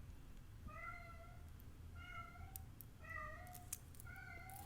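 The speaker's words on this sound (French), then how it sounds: "Est-ce que vous entendez mon chat ?" A pet cat meows four times at a steady pace, faint and distant over a low rumbling room noise, with no talking.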